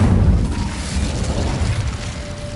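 A low, rumbling fire blast from the Incendio spell in Hogwarts Legacy rolls out steadily and fairly loud for a couple of seconds, alone without voices.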